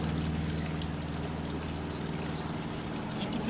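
Water flows steadily into a pool skimmer basket, producing a continuous rushing, gurgling wash with a low pump-like hum underneath, close and even throughout with no talk.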